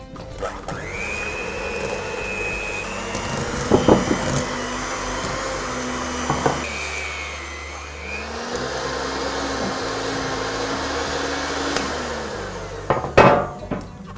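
An electric mixer whirs steadily through honey cake batter in a kitchen, motor pitch rising and falling as it works, with occasional knocks and clatter against the bowl.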